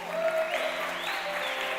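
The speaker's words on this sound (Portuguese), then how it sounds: "Aplausos para a pastora Eliane." A church congregation applauds pastor Eliane, soft, steady clapping heard at a distance and partly masked by a sustained musical tone underneath.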